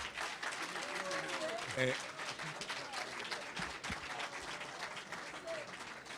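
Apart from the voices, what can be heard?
audience applause for two debate candidates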